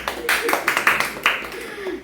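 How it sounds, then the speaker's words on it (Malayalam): A family at home claps together for the winner of a guessing game: a short burst of quick, close, sharp hand claps with loosely overlapping rhythm lasting about two seconds. "ഇപ്പൊ എല്ലാവരും ക്ലാപ്പ് കൊടുക്കാം"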